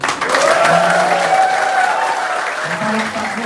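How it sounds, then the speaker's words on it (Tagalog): An audience at a leadership training session bursts into loud, sustained applause that fills the room for several seconds, with a voice speaking faintly over the clapping near the end. "Parampakan po natin ang bawat isa."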